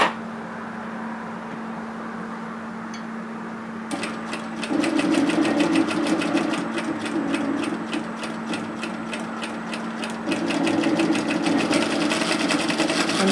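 A sewing machine stitches binding onto a dress, starting after a quiet hum with a rapid, even run of needle ticks, pausing briefly before running again, close and clear.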